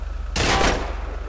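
Gunfire in Grand Theft Auto V, a loud sustained burst of rapid shots that breaks in suddenly over a steady low hum and then fades.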